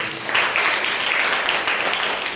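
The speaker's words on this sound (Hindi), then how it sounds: "एक जोरदार ताली बजाए परमेश्वर।" Steady, fairly loud applause from a congregation during a Sunday morning church service, a continuous wash of clapping with no talk over it.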